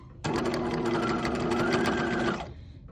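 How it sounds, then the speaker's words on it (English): A sewing machine stitches an eyeglass case in one steady, close run of rapid needle strokes lasting about two seconds, then stops. "And I'm going to start sewing there."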